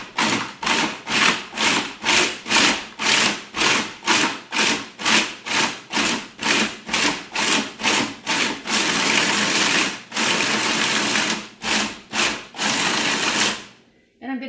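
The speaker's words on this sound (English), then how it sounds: "So I'm going to pulse chop this mix in the Cuisinart." A Cuisinart food processor with an S blade pulse-chops a coconut mix, giving a long series of loud, evenly spaced motor bursts with brief gaps, then a few longer continuous runs before stopping.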